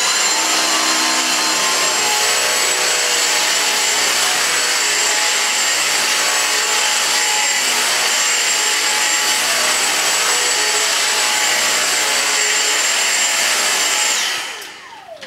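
A Dyson V6 cordless vacuum cleaner runs loud and continuous with a steady high whine while picking up muck from the floor, then winds down at the very end.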